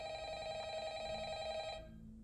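A phone rings in the video game Five Nights at Freddy's, a steady electronic trill sustained for nearly two seconds before it cuts off and leaves a faint low hum.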